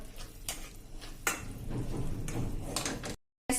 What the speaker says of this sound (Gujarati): આ રીતે મેસરથી મેશ કરી લેશું